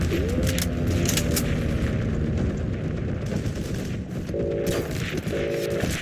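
Rapid bursts of automatic gunfire crackle continuously in a Heroes and Generals battle, loud and dense with overlapping shots and occasional mechanical clicks.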